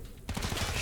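Gunfire from the tactical video game Wasteland 3 bursts in abruptly after a short quiet moment, a dense, loud volley of overlapping shots that continues steadily to the end, with no talking.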